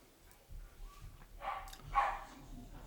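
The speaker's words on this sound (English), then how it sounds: "Dogs barking, cats and dogs living together." Dogs bark a few times in the background near a bar, faint and distant, with scattered yips between quieter stretches.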